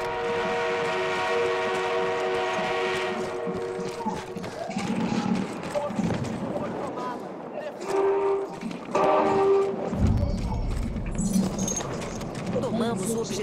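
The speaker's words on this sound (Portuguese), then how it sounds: "O nosso trem blindado chegou." An armored train rolls in during a Battlefield 1 multiplayer match, with a sustained horn-like tone and mechanical clanking amid gunfire and battle noise. Soldiers shout over the din.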